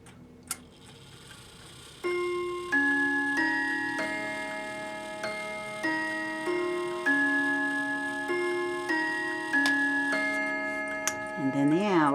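A 1979 Hamilton mantle clock with a Hermle 340-020 movement chimes the quarter hour, ringing a clear melodic sequence of bell tones over a steady tick, close and moderately loud, ending with a faint whirring.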